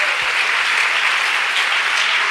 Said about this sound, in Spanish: Dale ese aplauso fuerte al Señor ahora.